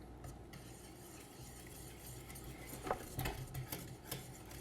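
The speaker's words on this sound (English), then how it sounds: "So now we're whisking." A whisk scrapes faintly through dry cookie ingredients in a bowl, giving soft, uneven stirring strokes that grow a little busier toward the end.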